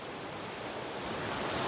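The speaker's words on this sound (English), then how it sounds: "This is the waterfall that I want to show you guys for a while now." A waterfall tucked in a small sheltered valley gives off a steady, broadband rushing hiss, soft and continuous, with no voices.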